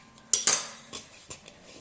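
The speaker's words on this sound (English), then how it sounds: "I'm going to use a little butter knife, cut this in half" A small butter knife clinks against a bowl or pan while cutting risen French bread dough in half, giving a few sharp metallic taps and scrapes spaced over about two seconds, close and fairly quiet.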